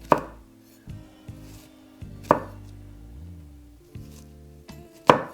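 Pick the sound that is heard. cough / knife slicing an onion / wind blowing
knife slicing an onion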